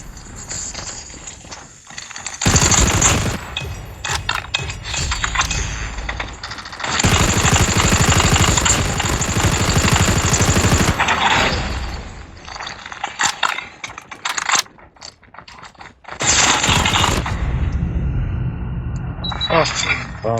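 Gunfire in the mobile shooter game COD Mobile, long loud bursts of rapid automatic shots separated by brief lulls, with someone talking over the action.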